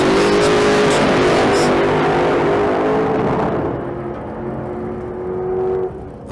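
A Camaro making a drag racing run at a strip, loud engine roar with a steady rising pitch that fades as the car pulls away down the track.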